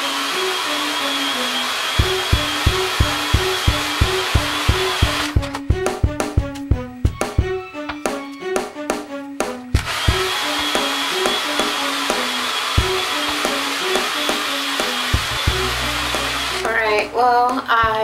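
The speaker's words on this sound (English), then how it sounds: "So I'm going to be using this, just a regular dryer." A regular Walmart hair dryer set on high heat blows air while natural hair is blow dried, a steady close whoosh that runs throughout, broken by repeated clicks and knocks and brief changes in tone as the dryer moves.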